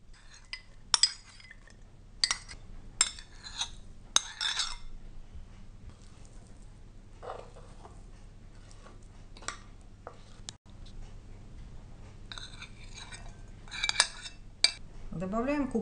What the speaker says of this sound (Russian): Теперь все измельченные ингредиенты перекладываем в глубокую миску.